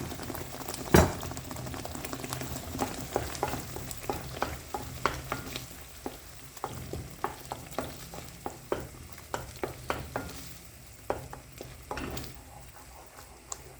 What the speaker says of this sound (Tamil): இப்போ இதை நாம் நல்லா சாட் பண்ணிடலாம்